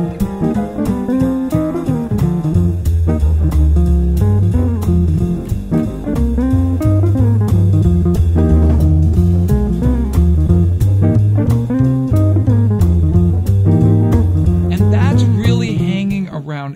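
Jazz guitar chord comping on a tune, a busy harmonic passage with a steady low bass line and chords used as melody, loud and continuous throughout with no talking.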